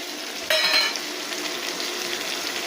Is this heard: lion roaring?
no